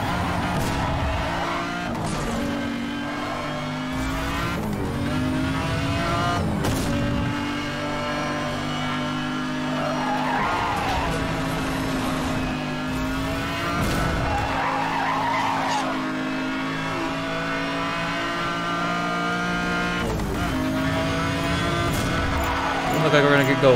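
Tire skidding from a McLaren F1 in the racing game Need for Speed Hot Pursuit Remastered during a time trial, steady engine drone with repeated squeal bursts throughout, while someone talks over it.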